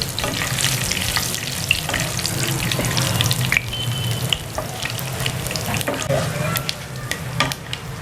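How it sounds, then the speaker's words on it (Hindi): Curry leaves and mustard seeds frying in hot oil for Hyderabadi bagara baingan, a steady loud sizzle with scattered sharp pops and crackles, alone with no talk. "इन सारे मसालों को फ्राई कर लेंगे।"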